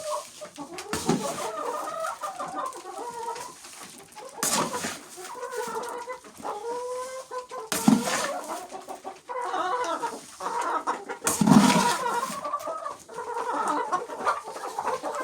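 Hens moved from cages into a new coop cluck and murmur continuously while eating at the feeders, with several overlapping birds close by and occasional louder squawks.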